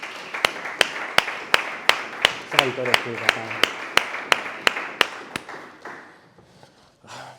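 A church congregation claps in a steady, even rhythm, with about a dozen sharp, loud claps spaced evenly. Someone speaks over the clapping before it fades out near the end.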